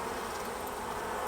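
Honeybees in a queen mating nucleus hive, a soft, steady buzzing hum of many bees close by, continuous and unbroken with no voices.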